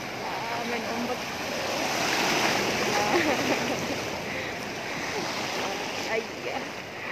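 Floodwater on Jalan Sempaja, a street in Samarinda, sloshes and surges in waves, giving a steady, fairly loud wash of water with wind noise and voices mixed in.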